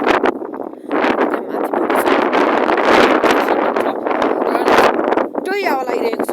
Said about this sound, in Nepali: उताबाट हावा आइरहेको छ लास्टै